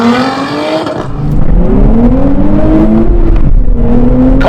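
Sports cars in a drag race, a Nissan Z, Porsche GT4 RS, Toyota Supra and Lotus Emira, roar loudly as they accelerate, engine notes climbing steadily through the gears in one continuous, close, powerful surge.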